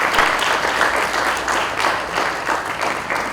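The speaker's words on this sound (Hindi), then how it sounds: "तालियां।" Steady applause from an audience at a felicitation ceremony during a Hindi stage play, dense continuous clapping with rhythmic swells throughout, with no voices over it.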